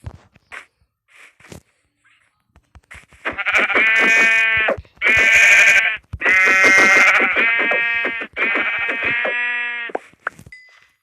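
Repeated loud bleats from a Minecraft sheep, four or five drawn-out cries one after another at close range, with faint scattered clicks before them.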